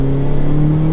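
A compact 140 hp car accelerates in second gear, its engine a loud, steady, close drone with an even tone held throughout.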